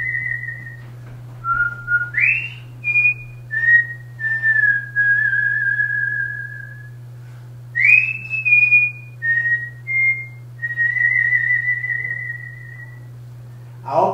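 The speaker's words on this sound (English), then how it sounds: "I say happy birthday to somebody with my whistle." A man whistles the Happy Birthday tune alone, in clear, sustained melodic phrases with short pauses between them, close and fairly loud over a steady low hum in a kitchen.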